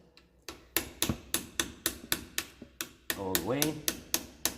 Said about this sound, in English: So now we hammer this in